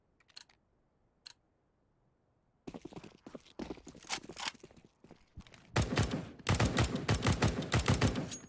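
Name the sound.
gunfire spray in the video game Counter-Strike on Dust 2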